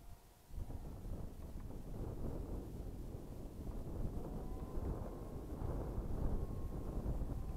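Steady wind buffets an outdoor microphone during a test flight of a Taranis model aircraft, a constant rushing roar with a faint motor whine running through it, close and fairly loud throughout with no talking.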